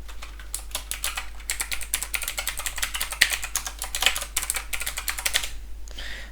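Quick, uneven keystrokes on a computer keyboard as a domain name is entered, a close run of light clicks that pauses briefly near the end.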